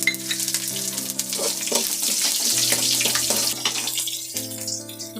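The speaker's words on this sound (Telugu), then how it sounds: "ఇప్పుడు కరివేపాకు పచ్చిమిరపకాయ అంతా వేగింది" Dried curry leaves and green chillies frying in hot oil with urad dal and chana dal. A loud, close, continuous sizzle and crackle, with faint stirring and music playing beneath.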